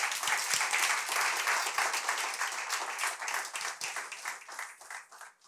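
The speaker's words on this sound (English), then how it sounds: "Come on, let's give the dads a round of applause." Applause from an audience honoring the dads, steady, dense clapping from a sizable crowd that holds for several seconds and then thins toward the end.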